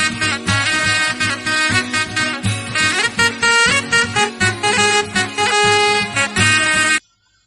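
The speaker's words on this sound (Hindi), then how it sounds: "शहनाई।" Shehnai melody with accompanying percussion, a bright reedy wind line of quick ornamented notes over rhythmic beats, loud and continuous until it cuts off abruptly near the end.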